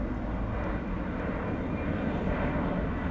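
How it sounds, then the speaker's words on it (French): An airplane passes overhead through cloud above a nature reserve near Bruges in Nouvelle-Aquitaine. Its engine makes a steady, broad distant roar that stays even for the whole stretch, with no voices. "Puis on a dans les nuages un avion."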